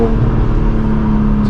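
A straight-piped BMW M4 G82 at a BMW M car meet sends out a loud, steady, close exhaust drone under acceleration, with a heavy low rumble and no clear break between gears in this short stretch.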